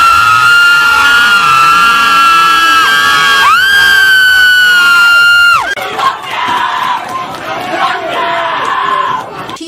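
Protesters scream and screech loudly, with long, piercing, sustained shrieks over a roaring crowd, giving way to mixed yelling and chanting.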